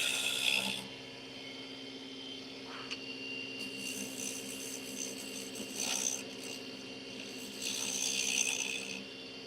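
Wood being hand-sanded with 320 grit sandpaper in a woodworking shop, with rough rasping strokes in several separate bursts, moderately loud and close, over a steady background hum.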